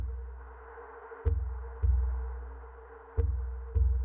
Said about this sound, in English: It's the sound of my heartbeat.